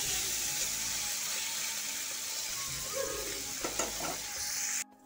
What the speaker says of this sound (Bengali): একটু লবণ মেখে পনিরটাকে ভেজে নেবো